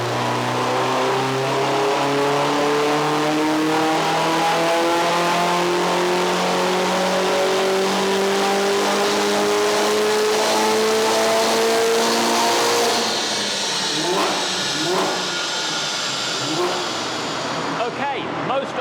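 A Mercedes-AMG A45S with Stage 2 tuning revving hard on a dyno, the engine note climbing steadily in a long loud pull before cutting off, followed by popping and burbling on the overrun.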